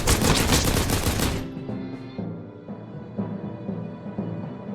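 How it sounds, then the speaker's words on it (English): Loud, dense burst of submachine gun fire in the Warsaw 1944 uprising video game, a rapid continuous volley lasting over a second, then cut off into quieter scattered clatter and rumble. "we're gonna just push him back with the submachine gun"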